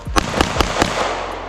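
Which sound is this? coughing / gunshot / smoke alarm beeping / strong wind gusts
gunshot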